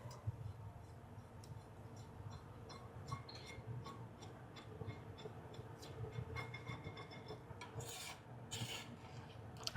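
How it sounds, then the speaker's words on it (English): Soft, continuous scraping of chocolate chip cookie dough out of a pan, with quick rasping strokes and light ticks running close and quiet throughout. "Scrape it all out good."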